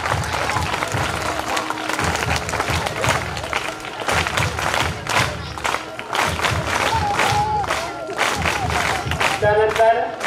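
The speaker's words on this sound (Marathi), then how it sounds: "स्वागत असताना, सत्कार होत असताना टाळ्या सुरू राहिल्या पाहिजे" Sustained audience applause at a service-retirement felicitation ceremony, steady clapping filling the hall for about ten seconds with crowd noise, occasional voices and a brief whistle-like tone near the end.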